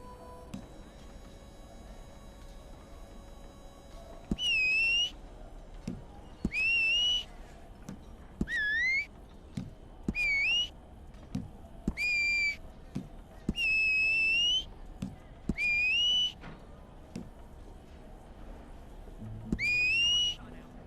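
Repeated high whistled phrases from Red Dead Online, eight or so rising and bending notes in short bursts spaced a second or two apart, clear and fairly loud over a faint game ambience with occasional low clicks.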